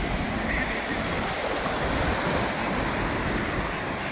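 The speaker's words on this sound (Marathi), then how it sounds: "चांगला समुद्रकिनारा एकदम." Sea waves wash onto a quiet Konkan beach on the way to Goa through Sindhudurg, a loud continuous roar of surf with wind buffeting the microphone, no talking.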